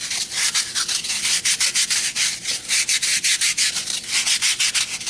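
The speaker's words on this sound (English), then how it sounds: "You can rub the corners off." A palm rubbing and shaping a paper mache form, a loud, close, rhythmic scraping with quick repeated strokes and short pauses between them.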